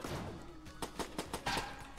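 Rapid bursts of gunfire from the bullet-hell video game Enter the Gungeon, several sharp crackling volleys at a steady rhythm over a dense layer of game noise, with no speech.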